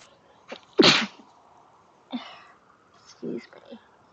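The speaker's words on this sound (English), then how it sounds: "Feel a sneeze building." A single sharp human sneeze close up, preceded by a soft breath and followed by a few quieter sniffs and throat sounds.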